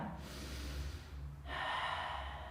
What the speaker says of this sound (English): Let's take 3 big breaths here